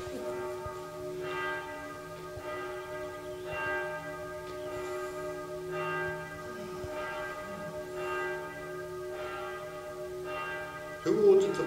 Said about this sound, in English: Who ordered the bell ringers?